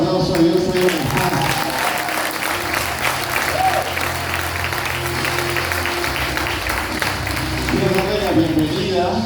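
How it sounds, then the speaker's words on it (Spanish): Church congregation claps in a loud, sustained round of applause, with voices and a low musical tone underneath. "Dale un fuerte aplauso a Dios ahí donde está."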